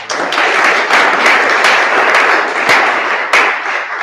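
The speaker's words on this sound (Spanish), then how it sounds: "Un aplauso por Mateo." Sustained audience applause at the Geocamp 2019 event, dense steady clapping from a crowd throughout with a few sharper claps standing out.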